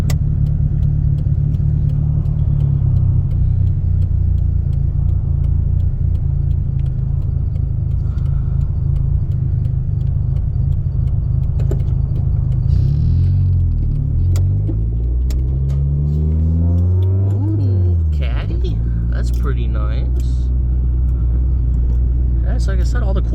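A 1995 Ford Probe drives with a steady loud engine rumble and road noise from inside the cabin, the engine pitch shifting as it changes gears and revs partway through, with no talking.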